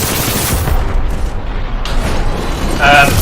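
An enemy Titan is torn apart in Titanfall 2 amid a dense, loud barrage of booms and gunfire-like blasts that keep rolling over one another, with a brighter metallic crack near the end.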